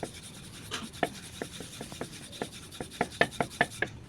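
Roti dough is rolled out with a rolling pin, a quiet run of soft rubbing rolls and light taps on the board that quicken toward the end, close by with no talking.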